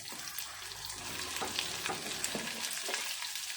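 Long-sliced onions frying in oil in a pan, a dense continuous sizzle with soft stirring scrapes and taps running throughout, close and moderately loud, with no voices.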